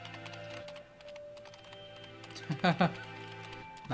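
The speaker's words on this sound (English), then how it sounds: "What is he typing with?" Keyboard typing effect from the video game Hatoful Boyfriend, a quick burst of clacking keystrokes playing over game music while people talk.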